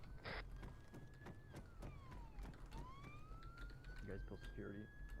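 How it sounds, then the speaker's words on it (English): Police sirens in the video game ArmA 3 wail faintly from a distance, one tone sliding down and then back up, under quiet talk and scattered sharp clicks. "Sirens heard."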